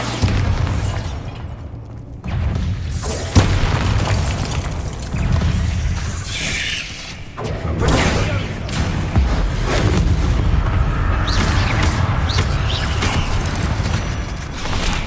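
Bombarda spell explosions in the video game Hogwarts Legacy, set in a grassy catacomb: heavy booming blasts and bursts ring out repeatedly over a busy game soundscape, loud and close, with no talk.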